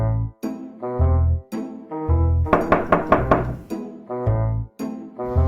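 A quick burst of about five firm knocks on a door, fairly close, set between stretches of steady tonal background sound.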